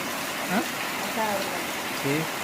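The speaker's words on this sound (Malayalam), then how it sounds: "നല്ല മഴ, അടിപൊളി മഴ." Heavy monsoon rain pours steadily in Kerala as a constant broad hiss, with a voice speaking briefly over it several times.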